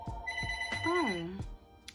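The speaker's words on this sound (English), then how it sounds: "now all of a sudden I do a video and the phone wants to just keep going off" A telephone rings in a short melodic trill, its warbling tones rising and falling over about half a second, with a couple of thumps and brief vocal sounds around it.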